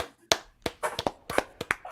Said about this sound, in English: Rob is clapping, but he's also eating